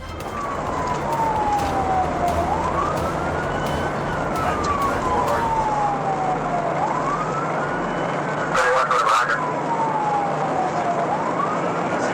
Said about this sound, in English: The trooper immediately activated the siren and ordered the driver to pull over